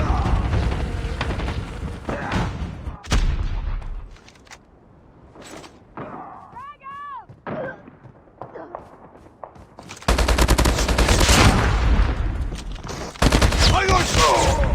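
First-person shooter gunfire comes in loud bursts of automatic fire at the start and again in the final seconds, with quieter mechanical clicks, creaks and scattered shots in between.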